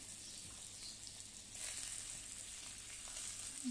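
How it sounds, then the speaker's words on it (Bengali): Marinated chicken pieces frying in butter in a pan give off a steady, soft sizzle throughout, with a faint stir or shift of the pieces midway and no voices. "তো এটার মধ্যে আমি এখন বাটার দিয়ে দিচ্ছি চিকেনটা ভেজে নেওয়ার জন্য। তো ম্যারিনেট করা চিকেনটা আমি এখন দিয়ে দেব।"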